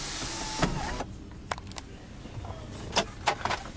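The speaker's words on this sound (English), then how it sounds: "new power sunroof." A power sunroof motor on a 2008 GMC Yukon Hybrid whirs briefly, followed by soft clicks and light mechanical taps inside the cabin, fairly quiet and without talk.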